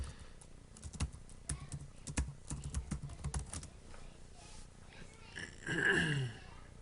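Someone types a website name on a computer keyboard, a run of quick, uneven clicks and taps close by that trails off into a short rustling burst.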